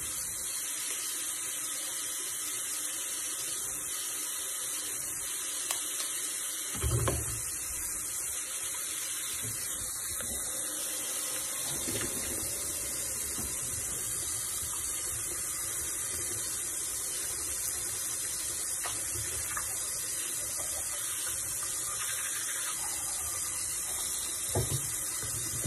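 Steady running water from a bathroom tap fills the scene as a face is washed during a morning routine, a continuous broadband hiss with a few soft splashes and knocks, fairly close and with no talking.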